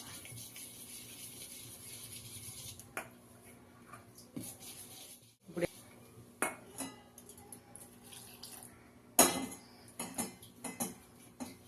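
A spoon scrapes and taps around a bowl while boondi laddu batter is stirred to a dosa-like consistency, with soft irregular clinks and a few sharper knocks over a low steady background hiss.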